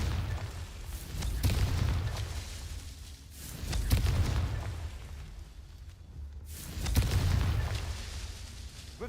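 Confringo spell explosions in the video game Hogwarts Legacy, three deep rumbling booms spaced a few seconds apart, each swelling and fading with crackling debris.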